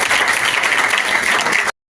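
Loud, dense applause from a crowd of students at a dental camp held in a girls' school in Dighal village, sustained and steady for nearly two seconds before cutting off abruptly.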